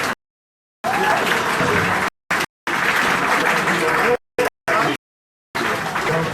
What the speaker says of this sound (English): can you just clap and clap for this?